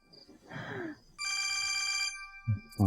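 A telephone bell rings once in a close, loud burst of about a second, with brief voices and background sounds before and after.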